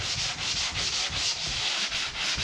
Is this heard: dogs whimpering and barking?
no